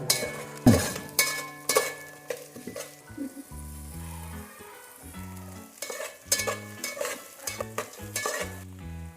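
Chicken pieces and green chillies sizzle in a hot pan for a Konaseema chicken curry, with repeated bursts of spatula stirring and clinks against the metal pan.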